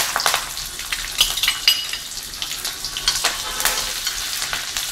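Steady crackling sizzle of onion and curry leaves frying in a hot pan, with occasional sharp pops and spatters, close up.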